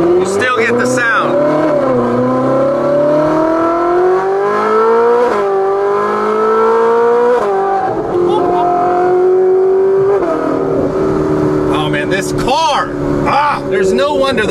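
A Ferrari 458 engine revs repeatedly, its high-pitched wail climbing and dropping through several rising sweeps, loud and close, with people talking over it at times.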